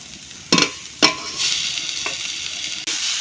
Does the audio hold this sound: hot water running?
no